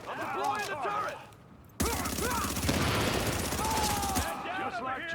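Sustained turret gunfire in The Division, a dense rapid burst of shots lasting a few seconds that cuts in abruptly, with game chatter and voices before and after.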